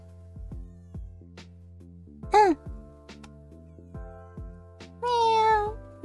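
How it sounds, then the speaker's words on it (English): Domestic cat meowing several times in short, close, rising-and-falling calls, with a longer drawn-out meow near the end over a steady low background hum. "I'm forcing the cat to talk"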